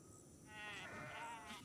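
Goats bleating in the video game Kenshi, a quavering cry that swells and holds for about a second over low background hum, fairly faint overall.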